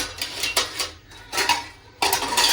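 Metal vessels and plates clatter as they are handled in a home kitchen, giving a few quick bursts of clanks and scrapes close by with brief pauses between them.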